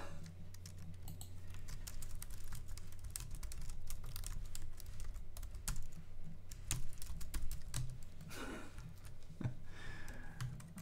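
Rapid, steady clicking of fingers typing on a computer keyboard while playing Idle Champions of the Forgotten Realms on PC, continuous and close for the whole stretch with no talking.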